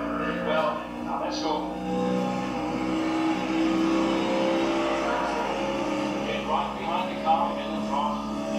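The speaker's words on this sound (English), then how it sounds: "Let's go ahead and play some Grid. Now, Grid is a racing game." A race car engine from the Codemasters Grid racing game revs and drones steadily, with gear changes and shifts in pitch. Someone talks over it throughout.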